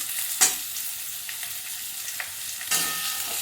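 Cubed potato and pumpkin frying in a pan with asafoetida powder for a mixed-vegetable danta dish, a continuous close sizzle broken by a few brief stirring scrapes.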